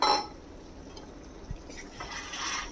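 Soaked mustard paste goes into a pot of fish curry with a short wet plop at the start, followed by faint bubbling and liquid slosh, quiet and close.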